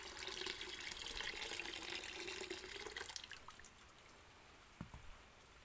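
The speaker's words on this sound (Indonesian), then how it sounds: "Dan langsung saja kita tuangkan bahan yang sudah kita rebus tadi ya. Kita tuangkan langsung ke dalam ember." Boiled homemade herbicide liquid poured into a bucket, a steady splashing pour for about three seconds, then tapering to quiet trickles and a single clunk.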